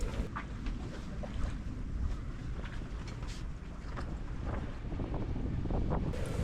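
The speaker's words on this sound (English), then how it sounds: "So we are motor sailing between coral heads and pearl farms to reach the channel" A sailboat motor sailing between coral heads and pearl farms toward a channel, heard as a steady low rumble under constant wind buffeting and water wash, even in level and close, with no voices.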